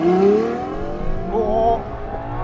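A Ferrari LaFerrari hypercar accelerates hard, heard from inside the cabin as a loud, close engine note whose layered tones climb steadily in pitch, with a brief whine around the middle.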